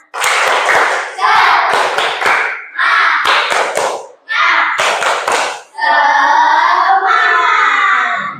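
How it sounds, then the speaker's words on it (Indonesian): Classroom applause for a group of students standing at the front, several seconds of dense hand clapping in bursts with brief gaps, followed by a spoken voice and some children's voices. "Terima kasih, aplaus untuk yang teman-teman yang di depan."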